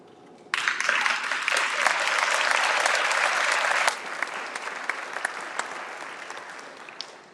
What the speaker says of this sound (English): we want to give an applause to you